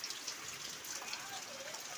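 Faint, steady rain falling outdoors, a soft continuous hiss of drops pattering on surfaces throughout, with no clear voices.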